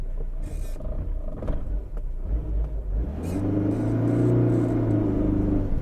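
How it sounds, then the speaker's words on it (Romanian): A Dacia Sport car driving over cobblestones on stiff springs, with a continuous low engine rumble and road noise that grows steadier and louder with rising engine tones in the second half, no talking. "Aici e o zonă cu piatră cubică, mașina are arcuri dure"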